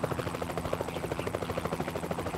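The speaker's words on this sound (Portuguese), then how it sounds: "E que barulho é esse? Você tá num helicóptero, não tá?" A cartoon helicopter thumps loudly nearby, its rotor chopping in a fast, steady pulse throughout.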